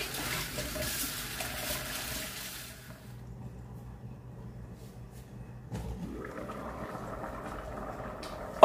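Water poured off soaked dried African breadfruit (ukwa) in a kitchen, a steady splashing pour that fades out, then a fresh gush of running liquid near the end.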